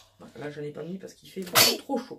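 A single sneeze bursts out between stretches of someone speaking French, loud and close, breaking up her talk.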